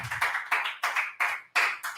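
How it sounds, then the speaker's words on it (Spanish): Sharp hand claps at a church service land in a quick, even rhythm, about three per second. They sound close and crisp, with no talking. "¿Cuántos le dan un aplauso, Señor, hermanos?"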